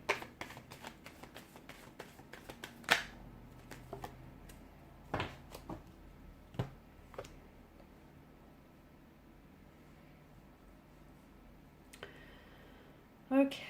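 Cards being shuffled in quick riffling bursts near the start, then quieter handling and scattered clicks, with soft background noise.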